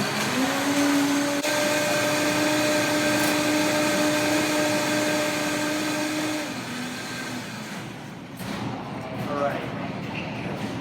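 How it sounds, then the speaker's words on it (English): A blender runs on high to turn macadamia nuts and water into milk. The motor gives a loud, steady whine that holds for several seconds, then winds down as a voice begins to speak. "Blend this up to high."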